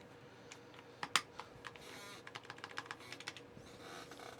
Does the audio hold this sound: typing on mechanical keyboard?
yes